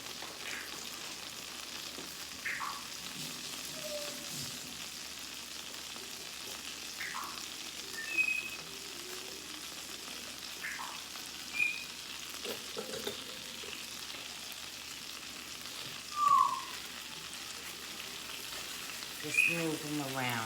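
Sweet potatoes coated in butter and brown sugar sizzle steadily in a cast iron pan, a soft continuous frying hiss with occasional faint pops and stirring scrapes.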